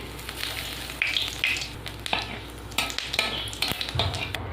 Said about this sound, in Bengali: তেলের উপর দিয়ে দেবো গোটা জিরে